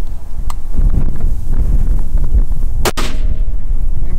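Remington sniper rifle fired at long range: one sharp, loud report near the end, with wind and outdoor rumble before and a short fading tail after.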